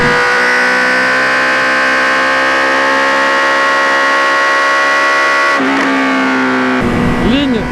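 Honda CB650R 2020 A2 inline-four with decatted MIV full exhaust and baffle fitted, revving high with a loud sustained harmonic wail, then shifting pitch and dropping sharply near the end.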